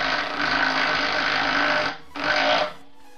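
A Milwaukee impact wrench tightens a bolt to 200 newton-metres, giving a loud, close mechanical whir for about two seconds, then a short pause and a second, shorter burst.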